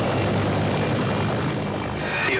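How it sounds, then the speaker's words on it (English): Loud, dense rotor roar of a rescue helicopter nearby over a stormy sea, continuous and unbroken throughout. "the rescue helicopter has spotted the Cheval de Mer"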